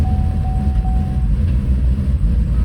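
A 2019 Chevrolet Silverado engine rumbles steadily at close range in gear, a dense low drone with a thin whine that fades partway through as the truck stalls.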